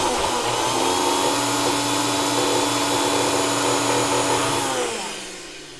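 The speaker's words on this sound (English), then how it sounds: "let me blend this" A Ninja blender whirs loudly as it blends raw vegan key lime pie filling, holding a steady motor drone for several seconds before winding down and fading near the end.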